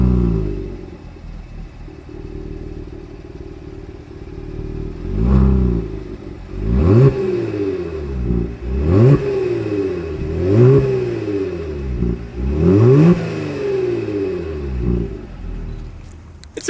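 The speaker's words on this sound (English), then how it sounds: "As always, here is that exhaust clip." A 2020 Genesis G70 with a 3.3-liter engine idles with a deep exhaust burble, then revs hard several times in a row, each rev rising and falling sharply, close and loud.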